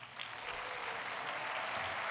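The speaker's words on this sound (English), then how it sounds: "Please give him a warm applause and welcome." A large crowd at the Republican National Convention in Charlotte applauds in a continuous dense wash of claps, steady and fairly distant, with no voices over it.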